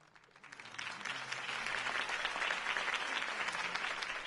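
Crowd applause after a campaign speech in the Batman Telltale Series video game, a dense, steady clapping that swells up from quiet and holds at moderate loudness.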